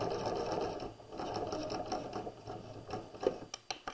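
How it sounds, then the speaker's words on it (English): A sewing machine stitches a pillow seam, its needle running in a fast mechanical whir before slowing into a few short back-stitch bursts and clicks at the end, close and alone. "When I get to the end, I'm going to back stitch"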